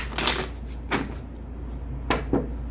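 Tarot cards being shuffled in a few quick riffling bursts, close by, with soft pauses between them and a low steady hum underneath.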